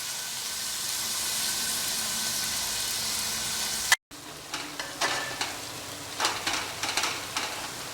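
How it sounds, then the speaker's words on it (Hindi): Onions frying in a pan over a high flame, a steady bright sizzle, then a brief cut followed by louder sizzling with scraping stirs and clinks close by. "ये हमारा तेज आंच पे है और इसे बढ़िया लगभग 8-10 मिनट तक प्याज को बढ़िया भून लेंगे"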